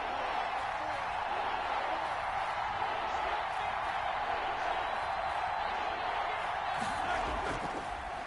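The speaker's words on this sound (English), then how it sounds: "the crowd getting into it as we come up on a big 3rd down" Stadium crowd noise roars steadily in a football video game as a big third down approaches late in the fourth quarter, a dense sustained wash of cheering throughout with a slight swell near the end.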